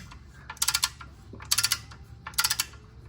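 A ratchet wrench snugs transmission bolts in a cross pattern during an OBS Ford ZF5 transmission swap, giving three short bursts of rapid close clicking separated by brief pauses, with no talk.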